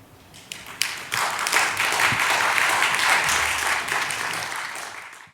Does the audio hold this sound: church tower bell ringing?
no